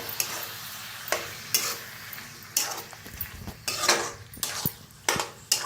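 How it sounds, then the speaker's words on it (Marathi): A ground masala paste is stirred and roasted in oil in a pan, with sharp metal scrapes and clinks of the spoon repeating unevenly over a light sizzle. "तर छान मिक्स करून भाजून घेऊया."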